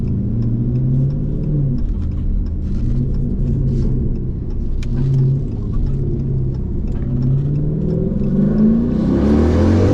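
A car's engine pulls hard under a freeway, a loud continuous rumble rising in pitch through the gears with a brief whoosh toward the end, no voices over it.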